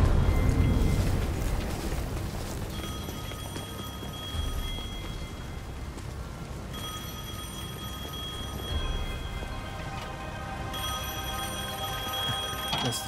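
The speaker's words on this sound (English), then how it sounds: "I guess the phone still works." An old telephone rings in the video game Devil May Cry 5, repeated bell trills in bursts over a low ambient rumble, clear but moderate in level with no talk.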